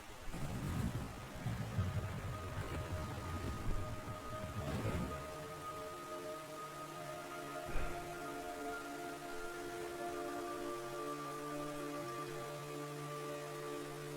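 Steady rain hisses in the video game Metal Gear Solid 3: Subsistence, joined by low sustained droning tones and one brief dull thump partway through.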